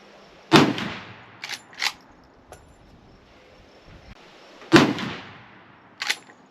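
Gunshots from a Winchester Model 1886 lever-action rifle in 45-90 at an outdoor range, two loud sharp reports a few seconds apart, each followed by lever-action clacks, no talk.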